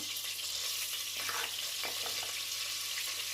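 Flour toasting in oil in a pan for a winter soup, a dense, even frying hiss with faint stirring scrapes underneath, close and steady, with nobody talking.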